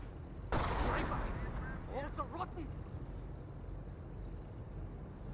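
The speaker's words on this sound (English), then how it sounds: "Both grenadiers now receiving some sniper shots." Rifle and sniper fire in the strategy game Company of Heroes, a US versus Wehrmacht match: a sharp crack at the start, then scattered shots and battle noise beneath a voice talking throughout.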